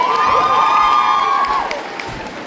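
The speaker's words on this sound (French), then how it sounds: "Allez, on l'applaudit" A loud crowd cheers and whoops at a cosplay contest, with shrill excited voices rising together, then easing off after about a second and a half into quieter background crowd noise.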